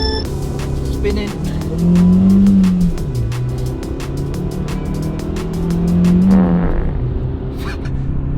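A project car engine revving and pulling hard through two long acceleration surges, loud and close, with steady engine drone between pulls and a voice talking over it.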